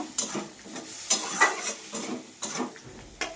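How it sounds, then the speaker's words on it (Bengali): Vegetables with ground spice paste and salt stir-fried in a pan for an okra, potato and fish dish, irregular scraping strokes of a spatula over a soft sizzle, close and moderately loud. "এবার আমি ভালো করে এটা কষিয়ে নেব"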